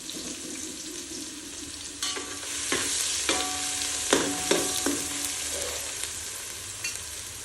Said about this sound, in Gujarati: અને ડુંગળીને આપણે અંદર સંતળાવા દઈશું